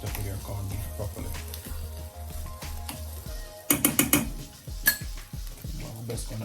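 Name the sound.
corned beef frying in pan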